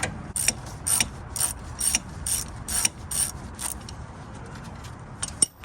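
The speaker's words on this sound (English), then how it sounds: "all we have to do is remove this castle nut from the bottom of the outer tie rod" A ratchet wrench loosens the castle nut on the outer tie rod of a Honda Civic EG, giving a run of quick, evenly spaced metallic clicks in bursts, close and clear with no talk.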